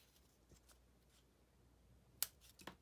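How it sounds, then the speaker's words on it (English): Scissors snipping the tip off a folded paper card, two or three faint, sharp close cuts in a quiet room. "I'm gonna cut this off"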